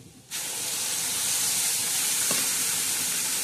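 Red chili powder and turmeric hit hot oil in a tempering, bursting into a loud, steady sizzle that starts abruptly and holds close and constant, with a brief clink partway through.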